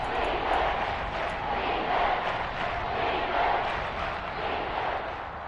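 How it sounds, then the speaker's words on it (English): Stadium crowd at a football game building up before a big third down, a broad steady roar of cheering voices filling the space evenly throughout, loud and continuous with no single voice standing out. "the crowd getting into it as we come up on a big third down"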